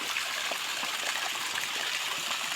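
Irrigation water flowing through a sugarcane field, a steady, continuous rushing and gurgling stream heard close up throughout, with no voices.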